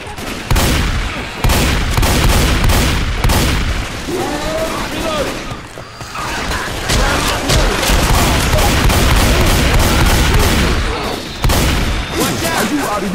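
Dense, loud gunfire from the video game Left 4 Dead 2, with rapid repeated shots and booming blasts through nearly the whole stretch while players talk in Italian over the action.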